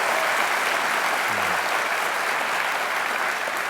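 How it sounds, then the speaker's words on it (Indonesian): An audience applauds comedian Cak Lontong at a live comedy show, a dense, even wash of clapping from many hands that holds steady from start to finish with no talk over it. "Kasih tepuk tangan dong, Cak Lontong"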